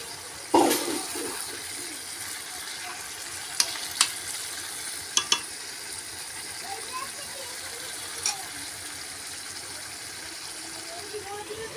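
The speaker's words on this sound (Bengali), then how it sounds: "এই দেখো, মাংসটা আমি রান্না করছি এখন" Meat frying in a pan for biryani gives a steady, low hissing sizzle, broken by a few quick metallic clicks from a utensil, with a faint voice in the background.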